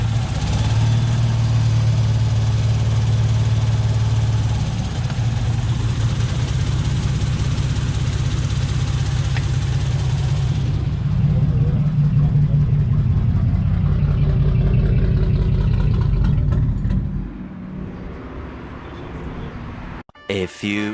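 A Lexus IS300 engine idles steadily and loud on a Link ECU after its first start, with a low rumbling hum that holds for most of the time before dropping away near the end, with speech mixed in.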